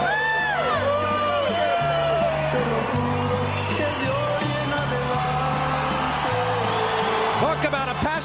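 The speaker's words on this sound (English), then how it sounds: "Johnny Tapia's crowd erupts as their man steps into the ring" Roaring crowd of about 7,000 passionate boxing fans at the MGM Grand as Johnny Tapia steps into the ring, whoops and yells swelling continuously under loud music with a steady thumping beat.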